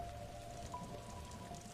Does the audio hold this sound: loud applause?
no